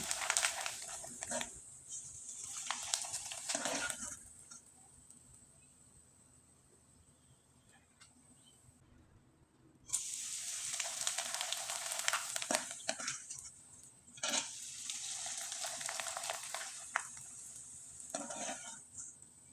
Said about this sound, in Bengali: আমি একইভাবে আরও দুইবার ভেজে আপনাদের দেখিয়ে দিচ্ছি